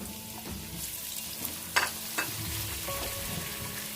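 Steady sizzling of onions frying in a pan, with a couple of sharper splashy bursts as tomatoes are added and stirred; no talking.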